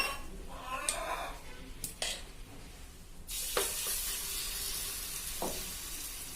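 A noodle omelette mixture of Maggi noodles and egg is poured into a hot pan and breaks into a loud, steady sizzle, after a few sharp clinks of utensils against the pan.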